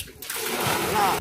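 Water splashes and sloshes up close as it is drawn from a hand-dug well in a Thar Desert village near Jaisalmer, Rajasthan, a single loud burst lasting about a second.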